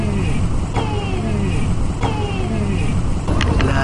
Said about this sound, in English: Driving home from the beach.